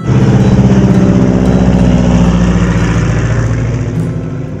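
A DHC-2 Beaver floatplane's radial Wasp engine runs steadily at close range, a loud, even, throaty drone with a deep rumbling pulse that holds for several seconds and eases slightly at the end.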